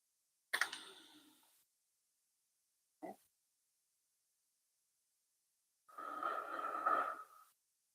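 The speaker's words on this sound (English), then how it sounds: "Thank you for breathing with me." Slow, soft breaths during a breathing exercise come in separate faint bursts: one inhale-like rush, a brief catch, then a longer, fuller breath after a quiet gap.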